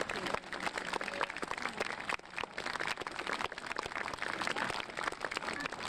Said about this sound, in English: Big round of applause.